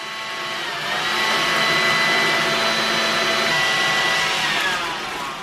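A vacuum cleaner drones steadily and loudly, sucking air out of flat-pack vacuum storage bags, its whooshing tone rising slightly in the middle and easing off at the end, with no voices.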